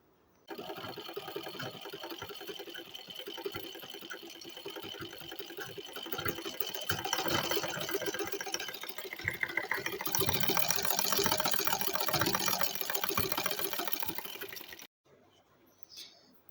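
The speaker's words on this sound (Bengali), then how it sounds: "এখন মোহরের লাইন থেকে শুরু করে আমি কোমর লাইন পর্যন্ত সেলাই করে নেব।" A sewing machine runs steadily for about fourteen seconds, stitching a salwar seam from the hip line up to the waist, then stops abruptly, leaving quiet room tone.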